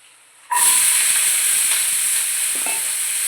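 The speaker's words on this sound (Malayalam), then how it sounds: "കടക് പൊട്ടണ കണ്ടോ ഗായ്സ്" Mustard seeds hit hot oil in a pan with a sudden loud hiss that settles into a steady crackling sizzle, with a few sharper pops close by and no voices.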